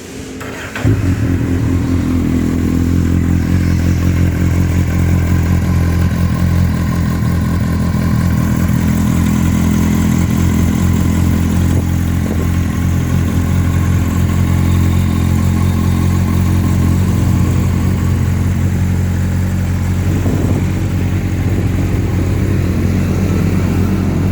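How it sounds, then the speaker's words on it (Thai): A 2016 Kawasaki Z800 motorcycle engine idles steadily up close, a continuous low rumbling throb that stays even throughout with no talking. "ฟังเสียงเครื่องยนต์ครับ"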